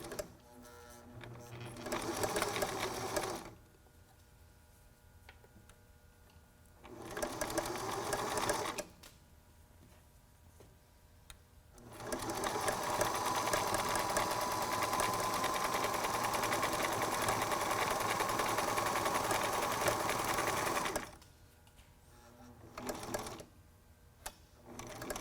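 A sewing machine stitches a face mask made from a T-shirt, running in bursts of steady whirring motor and needle clatter, the longest run about nine seconds, separated by quiet pauses.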